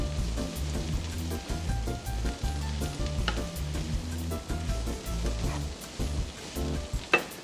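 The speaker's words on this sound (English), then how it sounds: "We're going to get some bean sprouts. Whack them in. Give them a good stir in." Noodles and bean sprouts crackle and sizzle in a hot stir-fry pan while being tossed, a busy close-up hiss with rhythmic scraping and stirring strokes and a sharp clatter near the end.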